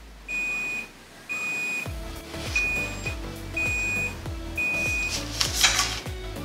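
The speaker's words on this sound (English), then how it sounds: "Why is it beeping at me?" Automatic hair curler beeping in a regular series of about six short, clear electronic beeps spaced roughly a second apart, close and fairly loud, with soft mechanical thumps between them.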